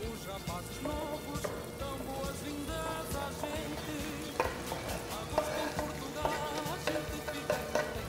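Salt cod fries in a pan with onion, a soft sizzling crackle under repeated clinks and scrapes of stirring, close and fairly quiet.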